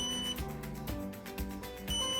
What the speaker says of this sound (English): After 3 beeps,